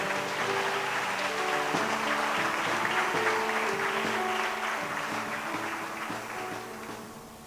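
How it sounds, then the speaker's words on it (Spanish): A church congregation claps loudly and steadily for the Lord, the sound dense and sustained, with a voice and tones carrying underneath before the clapping fades slightly toward the end. "Dale un fuerte aplauso al Señor."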